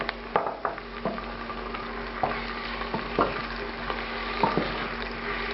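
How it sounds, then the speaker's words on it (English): Chopped onions and tomato sizzle in a pan for potato curry, a steady frying hiss broken by the scrape and clatter of a stirring spoon every second or so. "When the onions have softened and are just starting to turn brown, I'm going to add the coarsely chopped tomato to this"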